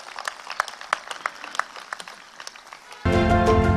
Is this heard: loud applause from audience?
yes